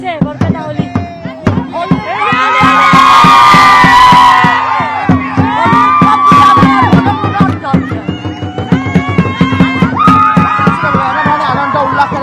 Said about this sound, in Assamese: নাচি বাগি সকলোৱে ফূৰ্তি কৰিছে।